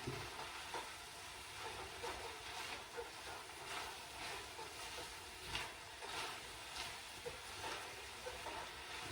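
Garlic sizzles and crackles steadily in a hot pan as beef and peppers are being cooked, a constant close frying hiss with light stirring scrapes and no talking.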